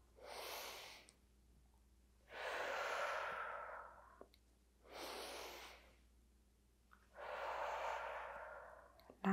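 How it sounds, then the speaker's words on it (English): Slow, deep yoga breathing close to the microphone: four long airy breaths alternating inhale and exhale, evenly spaced with quiet gaps between them. "Inhale forward, exhale back, three more."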